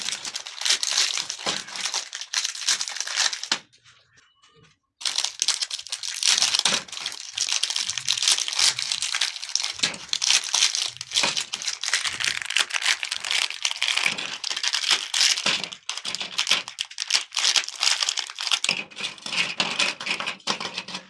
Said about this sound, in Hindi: तो फिलहाल इसको पन्नी से बाहर निकाल लेते हैं।